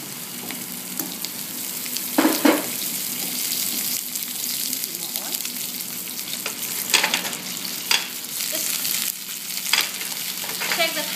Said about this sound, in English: I'm going to add my prawns into the hot pan.